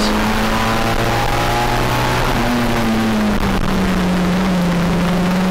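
Stock hatchback race cars lap Anglesey circuit in a close pack, engines droning loudly with shifting pitch as they run nose to tail, a steady wall of engine noise with no voices.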